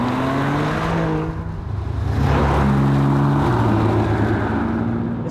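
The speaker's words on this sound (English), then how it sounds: "I'm going to put the car into Sport Plus now, and let's give this engine a bit of a try" A BMW M2 Competition in Sport Plus mode revs hard, its engine note climbing, dipping briefly, then rising again into a loud, close, steady drone without any talking.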